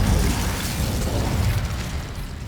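A Confringo blasting spell bursts in Hogwarts Legacy, a loud, close, rumbling explosion whose heavy low boom rolls on for a couple of seconds and slowly fades, with no voices over it.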